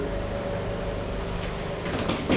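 Hospital lift doors, in an old modernised Benny lift, slide open with a low mechanical hum that builds into a brief rattling rumble at the end, no voices.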